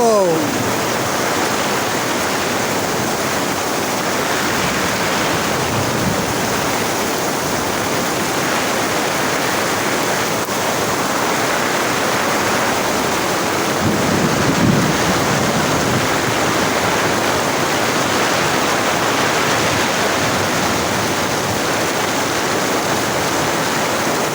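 Heavy, steady rush of flowing water fills the whole stretch, loud and close, a broad continuous roar like a waterfall or torrent, with a few faint excited exclamations breaking through now and then.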